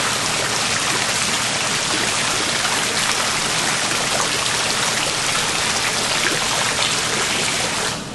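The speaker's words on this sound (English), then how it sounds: "This one right here is going to operate the waterfalls." Water from swim spa waterfalls pours and splashes continuously, a loud steady rushing hiss like heavy rain, with no voices.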